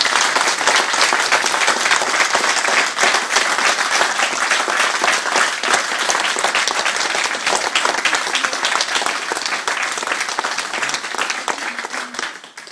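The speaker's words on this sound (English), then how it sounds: "Give her a clap." Applause at a karate seminar: a room full of people clapping steadily and loudly for about twelve seconds, then tapering off at the end.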